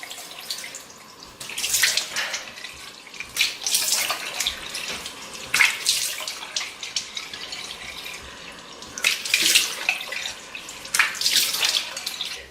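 Tap water running in a sink as makeup-removing cleansing butter is rinsed off the face, a close, steady wash of flowing water with uneven splashing surges as hands scoop and rinse, without talk.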